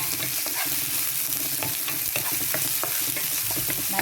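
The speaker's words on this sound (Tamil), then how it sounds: "செத்த மிளகாய் கருவேப்பமில எல்லாம் போட்டாச்சு இப்போ நாங்கள் இதை வதக்குவோம்" Dried red chillies and curry leaves sautéing in a hot oiled pan, a steady close sizzle broken by scraping stirs from a spoon, with no talking.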